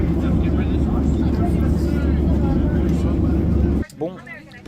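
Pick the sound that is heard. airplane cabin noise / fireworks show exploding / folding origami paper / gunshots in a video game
airplane cabin noise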